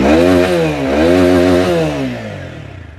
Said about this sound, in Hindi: अब अपन सुन लेते हैं एक बार अपने स्टैंडर्ड एडिशन का एग्जॉस्ट साउंड।